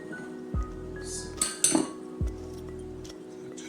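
A sieve of flour, bicarb and ginger is tapped over a bowl: two distinct resonant knocks about a second and a half apart, with light metallic clinks between them, close and clear.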